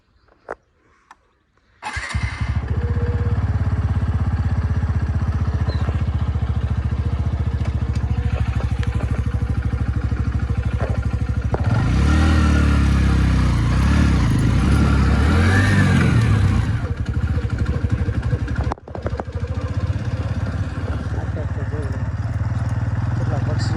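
A motorcycle engine runs close by at a steady, loud drone for nearly the whole stretch after a short quiet start, with a brief dip near the end; an open-air spot at Chobari in Gujarat, with people talking over the engine.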